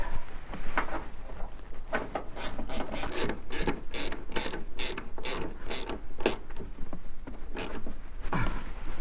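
A ratchet socket wrench tightening a fitting on an Autotrail motorhome, a series of close, crisp clicking bursts in quick rhythmic strokes over a low background hum, with brief pauses between pulls.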